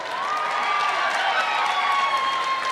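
A large audience applauds at a university commencement ceremony, a dense, steady roar of clapping with a few cheers and whistles, sustained evenly throughout.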